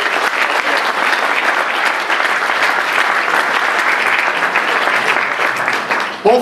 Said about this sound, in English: So I think we should all right now give a very, very rousing round of applause to our police department